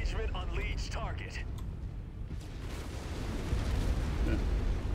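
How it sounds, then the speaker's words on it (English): A large explosion in the MechWarrior 5 video game, a deep rumbling blast that swells and roars for several seconds beneath synthetic in-game radio voice callouts. "Too stupid to get out of the way of my own explosion."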